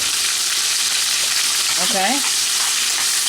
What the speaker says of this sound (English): We continue to stir, get everything incorporated while we add the ingredients.